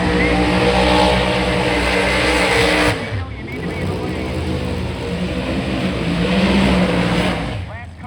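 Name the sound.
Pro Modified drag racing car engine, Chevrolet Camaro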